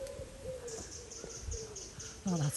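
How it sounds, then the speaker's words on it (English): A bird calls outdoors at night, repeated faint high notes over a dark, quiet background with low rustling, ending in a louder, brief sweeping call. "Oh, that's a bird."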